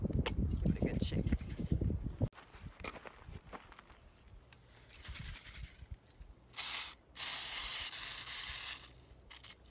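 A Rust-Oleum stone textured finish spray can hisses in several bursts, with one long loud hiss and a couple of shorter sprays near the end, after earlier handling and shaking noises.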